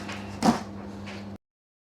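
A shipping box holding a replacement DJI drone is opened at close range: a brief tearing, scraping rustle of cardboard, then quiet handling before the sound cuts off.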